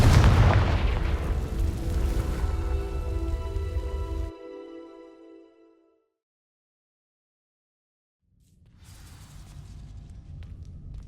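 Fire spell igniting dry vines in Hogwarts Legacy, a loud roaring crackling burst with a tonal magical shimmer that fades to silence, then low ambient rumble returns.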